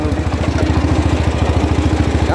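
A tractor engine, an old 140 model, chugs steadily as the machine rolls along, a loud, close, rhythmic low throb with fast regular firing pulses and no voices.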